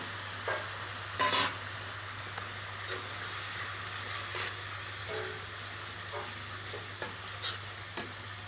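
Ginger garlic paste frying in oil with turmeric and chili powder in a pan for a meat curry, a soft, even sizzle broken by scattered spoon scrapes and clinks against the pan.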